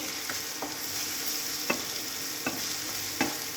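Tomatoes frying in a pan for egg masala curry, a steady close sizzle with a few light stirring scrapes over about three and a half seconds, no talking.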